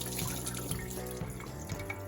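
Running tap water rinses strained, soaked almonds in a kitchen sink, a steady continuous splashing stream heard close up with no talking.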